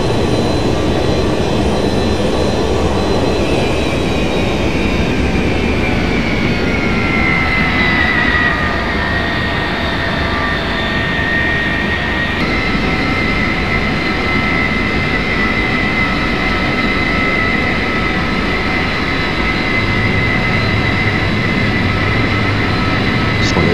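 Boeing 707 jet engines roar in reverse thrust during a night landing at Madeira, a loud, sustained rushing drone with a whining tone that slowly falls in pitch, continuous throughout.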